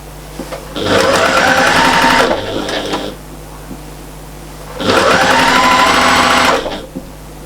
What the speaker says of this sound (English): you're turning again, and you're just top stitching